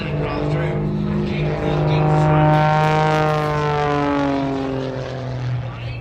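A propeller airplane maneuvering at an air show drones loudly overhead, its steady engine tone swelling and sliding in pitch as it passes close by.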